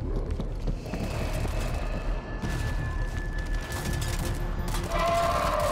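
Gunfire from the PC shooter World War Z, set in New York, crackles in quick bursts over steady game noise, moderately loud and tinny, with no one speaking.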